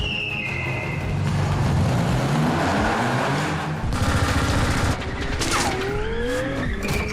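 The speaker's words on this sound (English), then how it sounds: "he's being shot at by a machine gun and shot at by these grenade launchers" Bursts of machine gun fire and grenade launcher shots rattle through a loud car stunt scene from Fast 7, with roaring engines and skidding tyres throughout, dense and continuous with sharp impacts toward the end.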